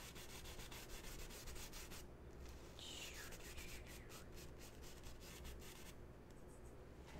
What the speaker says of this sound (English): And then I'll just kind of crisscross blend out the bottom there as normal